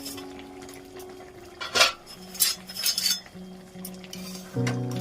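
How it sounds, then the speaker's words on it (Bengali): A cooking pot lid lifted off a simmering spicy boal fish curry on a gas stove, giving a few metallic clinks and clatters against the pot amid faint kitchen hum, with a sharper clank near the end. "এবার আমি চাপাটি খুললাম"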